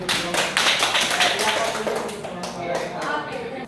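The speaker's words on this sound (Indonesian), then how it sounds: "Ya, tepuk tangan." A classroom of students claps together, a dense burst of hand claps that carries on steadily for several seconds before thinning out; a voice is heard faintly among the claps.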